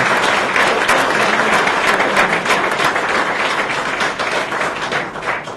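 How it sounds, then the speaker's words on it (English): An audience applauds after a talk at a discussion event, dense steady clapping filling the room for several seconds before tapering slightly. "let's give him a big round of applause for his talk"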